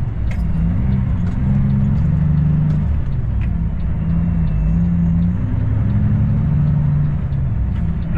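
Heard from inside the cab of a semi truck cruising down the road: a loud, steady low engine and road rumble with a faint wavering drone, continuous and unchanging, with no voices.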